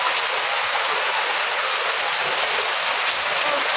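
Heavy rain pours down steadily at a rice mill, a dense, even hiss filling the whole moment without letup.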